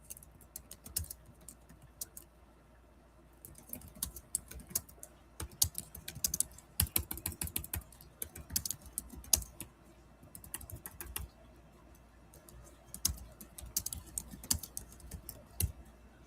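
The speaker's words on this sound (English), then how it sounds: "I was typing that as the commercial came on." Steady typing on a computer keyboard, irregular clusters of clicky keystrokes close up, with brief pauses between bursts.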